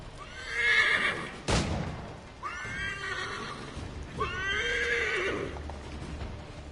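A horse in Assassin's Creed 3 whinnies twice, loud, drawn-out neighs close by, with a sharp thump between them and a faint low rumble of hooves and ambience underneath.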